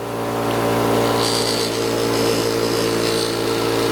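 A buffing wheel spins steadily while brass hardware is polished with Tripoli compound, giving a loud, continuous motor whine with a broad rushing hiss throughout, no talk.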